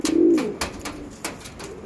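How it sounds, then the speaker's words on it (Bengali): An Andhra Lalsira breeding pigeon gives one close, full coo at the start, followed by sharp clicks and wing taps at intervals and softer murmuring after. "এটা হচ্ছে লাল শিরা পায়রা"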